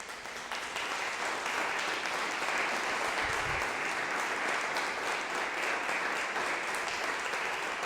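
A church congregation keeps up continuous, dense applause at an even level, with a brief low thump near the middle.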